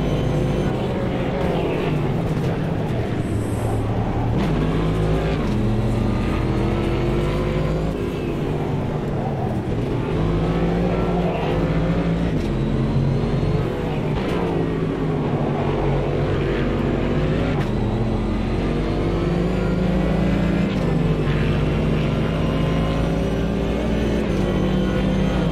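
Race car with minor damage lapping the Nordschleife in Automobilista 2, a near-200 mph machine whose engine drones loudly and continuously with rising and falling revs through gear changes, steady and close throughout.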